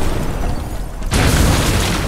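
A loud explosion bursts in Batman: Arkham Asylum, a single sudden broadband boom about halfway through that holds as a dense roar to the end, with no one speaking.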